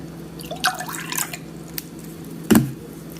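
Room-temperature water, about 100 millilitres, splashing into a container in a couple of short bursts with drips between them, close and fairly quiet.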